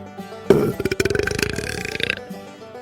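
A long, loud, gurgling belch with a rapid wet rattling pulse, rising suddenly and fading after about a second and a half.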